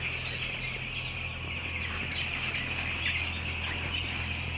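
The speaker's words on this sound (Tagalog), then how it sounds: "Grabe, ang daming manok." A crowded flock of many small young chickens keeps up dense, continuous chirping and clucking close by, a steady chorus with no pauses.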